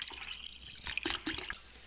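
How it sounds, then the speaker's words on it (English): Soda pours into a glass of orange juice, a short watery trickle and splash with a few bright gurgling bursts near the middle, close and quiet with no talking. "So I'm going to add soda."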